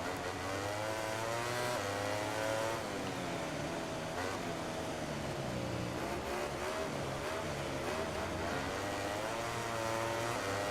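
A racing motorcycle engine in the MotoGP 19 game at Le Mans, with a loud, continuous high-pitched whine whose revs rise and fall through the gears, heard alone and steady for the whole clip.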